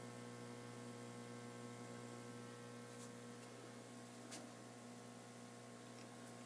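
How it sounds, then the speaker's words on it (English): Steady electrical mains hum from an Atari Asteroids arcade machine, a constant low buzz with layered harmonics, running evenly throughout with a couple of faint clicks and no talking. "Now you can hear a pretty good hum from the Asteroids machine."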